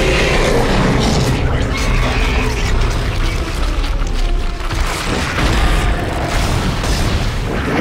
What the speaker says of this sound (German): Dann haben wir hier sehr viele von diesen Explosivtanks.